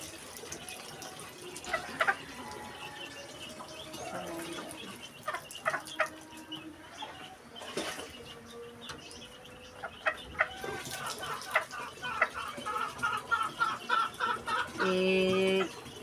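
Chickens cluck in short, scattered calls against a quiet background with the faint trickle of running water, the bursts growing busier and louder toward the end.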